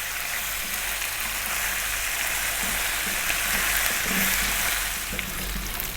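Lamb curry fries over medium heat in a pan, a continuous sizzling hiss broken by soft scraping strokes of stirring, fairly quiet and with no voices.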